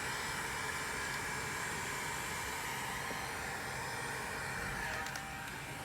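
A heat gun blows a steady, broad airy hiss onto heat shrink tubing over the wires of an AirBuddy compressor, holding continuous and fairly loud with no pauses.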